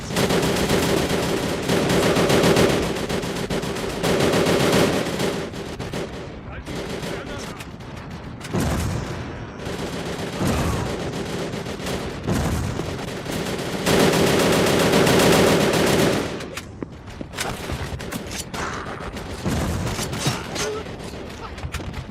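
Sustained gunfire in the video game M.I.A. Mission In Asia, loud, dense bursts of automatic shots in long stretches that break off and resume, with occasional short gaps, and a voice talking faintly underneath.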